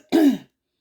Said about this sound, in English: Let me marinate and clear my throat.